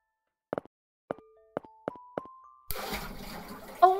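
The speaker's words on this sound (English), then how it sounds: "sounds like a flushing toilet" A toilet flushing in the Ib remake game: first a handful of short knocking tones, then a rushing swell of flowing water that keeps going to the end.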